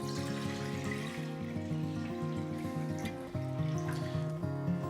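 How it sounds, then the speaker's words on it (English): Water pours steadily into a dish, a continuous filling sound whose pitch rises as the level climbs, close and unbroken. "we're just gonna fill up our dish with water"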